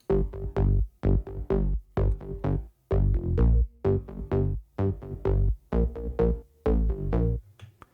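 A punchy, deep synth bass line plays short stabbed notes in a repeating syncopated pattern, loud and dry, with gaps between the hits.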